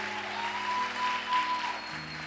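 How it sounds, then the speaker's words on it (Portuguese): A church congregation applauding, a steady, even wash of clapping throughout with a faint sustained tone underneath. "Você poderia aplaudir ao Senhor pela vida deles?"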